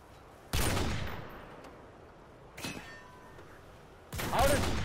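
Gunfire bursts in a multiplayer shooter game: three separate loud volleys of shots spaced a couple of seconds apart, each sharp attack trailing off, with quieter game ambience in between.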